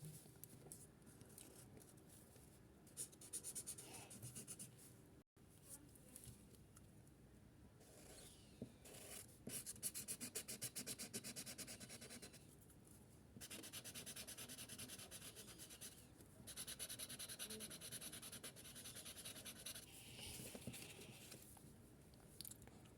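A colored pencil shades paper while an autumn-forest drawing is colored in, giving close, soft, scratchy rubbing strokes in long runs broken by short pauses.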